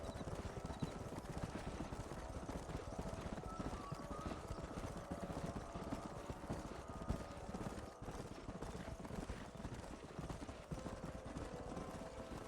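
A herd of wild horses gallops in the Western video game Red Dead Redemption, a dense continuous drumming of many hooves with occasional whinnies, steady and close throughout.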